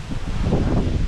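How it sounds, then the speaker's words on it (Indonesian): Wind pushes through leaves outdoors in a steady, loud, close-up roar of rustling and buffeting that sounds continuous throughout, with no voices. "angin batiup."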